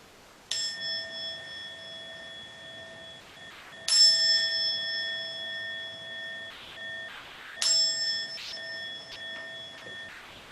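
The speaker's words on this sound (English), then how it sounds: "hearing the sound of the bell to conclude the meditation" A meditation bell rings three times at a slow, even pace, each clear strike leaving a long, sustained shimmering tone that fades gradually, close and fairly quiet in an otherwise still room.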